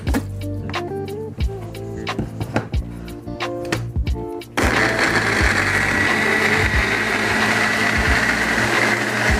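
Shallots and garlic are ground into a spice paste in a blender or grinder. Light clatter and tapping give way abruptly to a loud, steady motor whir that runs to the end.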